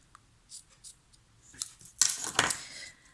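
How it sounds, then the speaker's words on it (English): Sharp snipping of scissors cutting ribbon, a few quiet cuts followed by two louder crisp snips close by, with no talking. "Just be careful with your scissors, because we'll know they're sharp."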